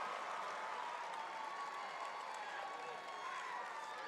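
A wrestling crowd at the Iowa 2A state finals cheering and applauding, a dense, continuous roar of clapping and shouting from a large arena audience, loud and unbroken throughout.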